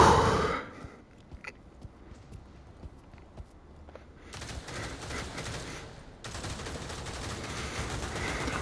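Gunfire from the VR shooter game Pavlov: scattered sharp shots and short bursts at a moderate distance, mixed with quieter movement noise, with no voices.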